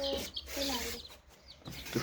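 Faint, high peeping from four chicks in short bursts, mixed with quiet talking nearby.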